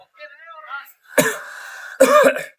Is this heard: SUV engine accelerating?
no